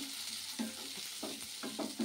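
Onions frying in oil in a pan for chicken dum curry, with a steady sizzle broken by about five rhythmic scraping strokes as they are stirred close up.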